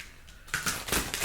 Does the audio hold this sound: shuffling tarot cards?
yes